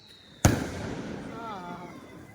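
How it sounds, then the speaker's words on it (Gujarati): A Diwali firecracker goes off at night with a single sharp, loud bang that rings out and fades slowly. A voice talks underneath afterwards. "દિવાળીના ફટાકડા ચાલુ થઈ ગયા છે"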